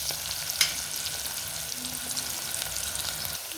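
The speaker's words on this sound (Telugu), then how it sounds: "ఇవి కొంచెం ఫ్రై అవనిద్దాము" Onions frying in a pan for a fenugreek-leaf curry with vadiyalu, a steady close sizzle with a few sharp crackles throughout and no voices.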